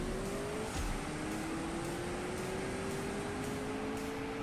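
Car engine in the CSR2 drag racing game pulling hard with nitrous, a steady loud droning whine climbing slowly in pitch across the run, alone and constant throughout.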